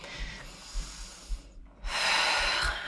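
Deep breathing during a step stool full-body workout: two broad, airy breaths, a longer inhale then a stronger, louder exhale after a brief pause, close to the microphone.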